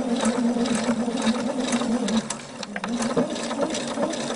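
A domestic sewing machine runs steadily while stitching close to the edge of a fabric waistband lining, a continuous whirring hum with light rapid ticking, briefly easing off midway before resuming.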